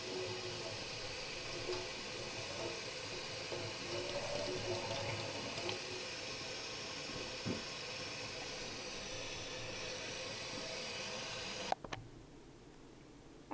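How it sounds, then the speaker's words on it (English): Tap water runs steadily as pineapple sage leaves are rinsed under it, a continuous hissing splash that stops abruptly near the end. "Just rinse them off gently so you don't damage the leaves."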